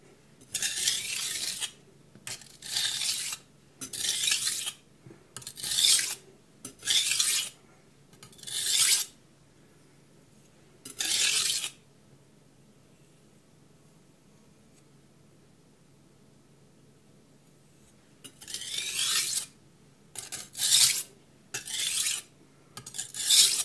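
A small knife ground on a coarse 120 grit stone: repeated bursts of harsh, gritty rasping strokes, each about a second long, in two groups separated by a quiet pause, close up with no talking.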